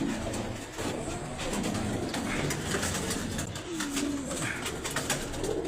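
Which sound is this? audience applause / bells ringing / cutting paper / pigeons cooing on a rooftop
pigeons cooing on a rooftop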